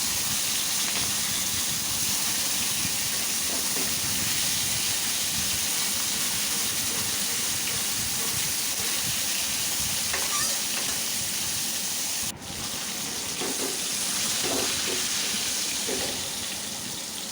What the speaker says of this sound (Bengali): এক পাশ ভাজা হয়ে গিয়েছে, এখন উল্টে দিব।